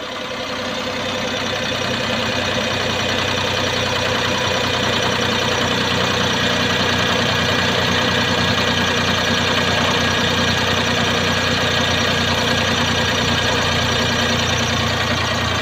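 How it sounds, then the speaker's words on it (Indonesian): A car engine idles with Grafinol oil supplement added to its oil, giving a steady, continuous hum with a faint knocking vibration that holds at an even level throughout, with no voices. "kita tunggu lah ya, kira-kira sampai idle mesinnya menjadi berapa."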